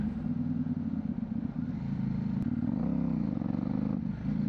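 A motorcycle engine drones loudly and close while riding, its pitch sagging and wavering as it nearly stalls before picking up again.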